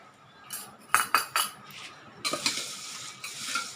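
Spoon scraping and clinking in a bowl as bhel is tossed with salt, green chutney and tamarind chutney, a few sharp knocks followed by a busier burst of stirring, close and fairly quiet with no talking.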